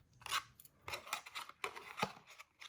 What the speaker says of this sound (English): Just line it up and cut it off like so